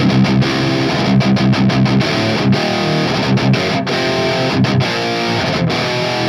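Heavily distorted electric guitar playing chugging metal riffs with short rhythmic stops, loud and continuous throughout.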